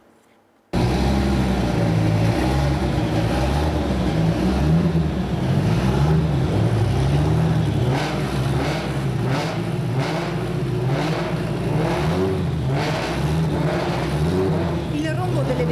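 Loud autocross race car engines roar and rev continuously, several vehicles close by with rising and falling pitch, a crowd murmuring faintly underneath.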